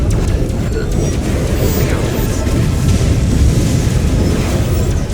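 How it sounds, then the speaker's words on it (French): Ground cannon fire striking a spaceship in the Vega Conflict video game, a continuous dense rumble of booming impacts and bursts at steady loud level, with faint talk underneath. "Là déjà je me prends les tirs du canon terrain."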